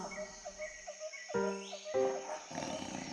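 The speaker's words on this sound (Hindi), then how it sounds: "कुछ समय बाद एक बाघ गरजते हुए उस तरफ आ गया।" A cartoon tiger in a children's moral story roars as it approaches, a short growling roar mixed with tonal background music and effects.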